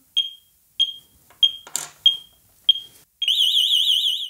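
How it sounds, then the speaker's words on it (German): Several short, sharp electronic beeps at a steady pace, then a loud, piercing warbling alarm siren that starts abruptly and keeps sounding. A Blaupunkt SA 2900-R wireless burglar alarm is set off by a door contact. "jetzt simuliere ich einfach mal einen Alarm, indem ich hier den Türkontakt auslöse"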